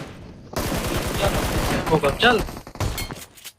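Rapid gunfire in the battle royale game BGMI fires in dense overlapping bursts, loud and close, with a voice briefly speaking over the shots.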